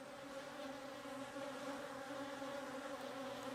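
Steady, even buzzing of bees around backyard hives being prepared for winter, a continuous close drone with no talking.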